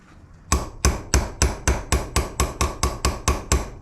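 About a dozen sharp, evenly spaced hammer taps ring out close and loud, seating a part during a roller cam swap on a 1955 Plymouth engine.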